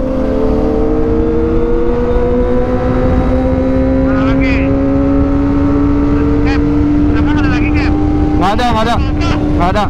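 Kawasaki ZX25R motorcycles accelerating together on a touring ride make a loud, buzzing engine roar that climbs steadily in pitch, close to the microphone, with wind noise. A rider speaks over the engines.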